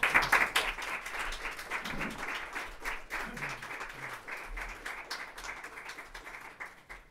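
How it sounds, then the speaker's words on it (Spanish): A seated audience at a book presentation in València gives a warm round of applause for two performers, moderately distant and fairly quiet, starting strong and gradually thinning toward the end. "un fuerte aplauso para los dos"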